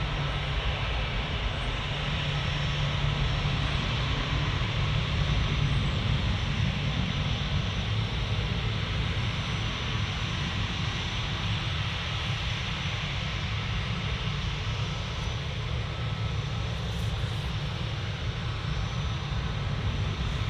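An EasyJet jet airliner at Manchester Airport, heard as a quieter, distant, low rumbling drone that persists evenly for the full twenty seconds.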